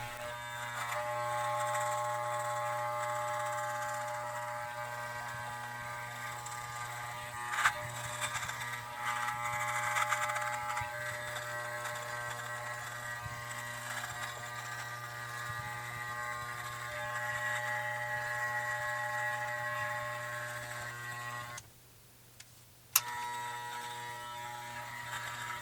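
An electric T-outliner trimmer shaving off facial hair gives a steady, close electric buzz with a strong hum throughout, briefly cutting out near the end before a short click.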